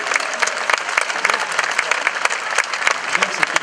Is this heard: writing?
no